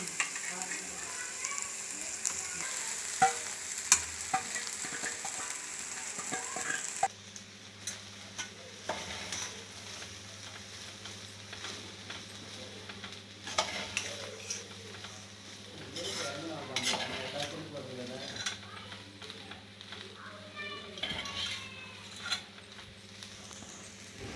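Vegetable fried rice with pepper powder being stir-fried in a pan: a steady sizzle runs throughout, with repeated scraping and stirring strokes of a spatula against the pan, close and fairly loud, without speech.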